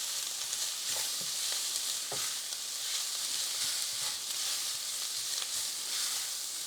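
Sausage browns in a pan over high heat, a continuous moderate sizzle with scattered crackles and spatters throughout.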